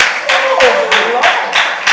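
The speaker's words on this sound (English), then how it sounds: "Let's clap that up in the building." Audience clapping at a youth huddle after an announcement, heard as a few sparse bursts of hand claps in a hall, with a voice talking over them throughout.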